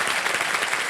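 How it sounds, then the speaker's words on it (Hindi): Studio audience on the KBC quiz show bursts into loud, dense applause, a continuous wash of clapping filling the whole short moment. "एक बार फिर जोरदार तालियां बज जाएंगी"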